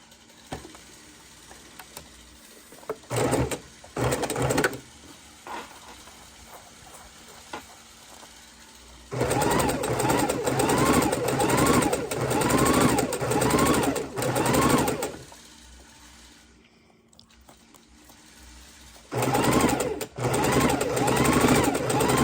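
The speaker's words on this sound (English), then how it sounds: "we're going to sew the 2 of these together" A sewing machine joins quilt pieces, running in bursts of loud, steady mechanical whirring with quieter pauses between seams, close and without talk.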